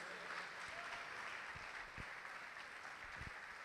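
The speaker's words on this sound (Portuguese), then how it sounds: "Vamos aplaudir o Senhor por isso." Congregation at a sermon applauds, a brief, even patter of many hands clapping at moderate volume with no voices over it.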